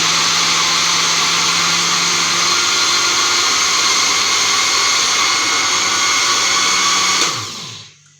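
A blender motor whirs loudly and steadily for about seven seconds blending thick mango, then cuts off and winds down to quiet.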